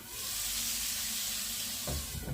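Marinated chicken fillet frying in a covered pan gives a steady close hiss and sizzle, with a couple of soft knocks near the end.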